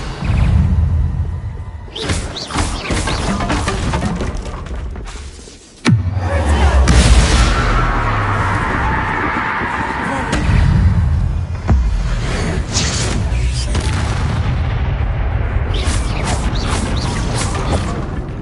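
Confringo fire spells cast in Hogwarts Legacy: loud, continuous blasting with crashing bangs, whooshes and debris, a sharp cut around five seconds, then sustained explosive rumbling and crackle.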